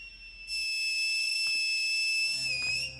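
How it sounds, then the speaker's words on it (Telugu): A person blows a loud, shrill whistle as one long, steady blast, with a faint thud and background noise near the end. "ఆయన కోసం ఒక పెద్ద విజిల్ వేయొచ్చు"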